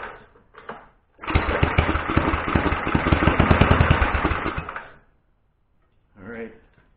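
An Ariens 824 snowblower engine coughs briefly, then fires and runs roughly for about four seconds with a rapid, uneven chug before cutting out, close and loud; a voice speaks briefly afterward.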